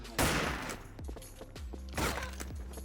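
Pistol gunfire in the online shooter Wolfteam: a quick volley of loud, sharp shots, with a couple of heavier bursts among them, fired in an irregular rapid rhythm with no voices.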